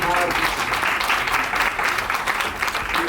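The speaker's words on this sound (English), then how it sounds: "A big round of applause to all the ambassadors" Audience applause at a Pinkathon breast cancer awareness event in Bengaluru, a steady wash of many hands clapping that fills the whole moment, with a voice speaking faintly beneath it.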